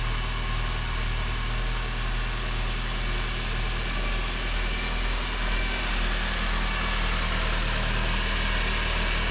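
A car engine starting up for the first time after being reinstalled settles into a steady, even idle, with a continuous low rumble and hum throughout and no speech.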